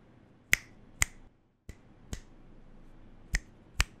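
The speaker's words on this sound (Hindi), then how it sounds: "देखो मैं यहाँ पे चुटकी बजाऊंगा, आप ऑडियो लेवल्स पे ध्यान रखना." Six sharp, separate finger snaps ring out close to a Blue Yeti USB microphone in a quiet room, spaced irregularly with short pauses of near silence between them.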